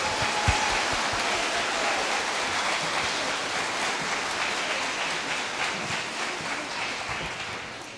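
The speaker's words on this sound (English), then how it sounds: "Let's give them another huge round of applause." An audience at an elementary school Thanksgiving assembly applauds, with dense, sustained clapping that holds steady throughout and eases off slightly at the end.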